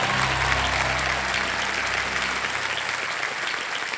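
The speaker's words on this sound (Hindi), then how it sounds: "तालियां बज जाए जोरदार एक बार फिर से देने के लिए।" Loud, sustained studio audience applause on the Kaun Banega Crorepati game show set, a dense wash of many hands clapping that holds steady and tapers slightly toward the end.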